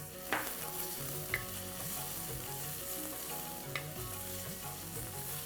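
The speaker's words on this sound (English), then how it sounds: "I'm going to add 1 onion which I've finely chopped and I'm going to saute it" Finely chopped onion sautéing in a pan for a Sri Lankan chicken curry: a quiet, steady frying hiss with occasional soft stirring taps, heard close and alone.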